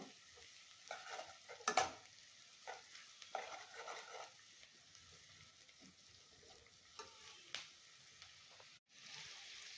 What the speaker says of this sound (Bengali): হালকা একটু কালার আসা অবধি আমি এটাকে একটু নেড়ে চেড়ে দিব।